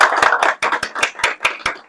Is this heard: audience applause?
yes